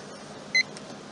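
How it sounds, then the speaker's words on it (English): A timer gives one short, clear electronic beep as it is started, near and distinct above a quiet room background. "I'm going to just start the timer"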